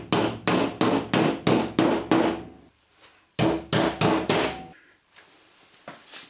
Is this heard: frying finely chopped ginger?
no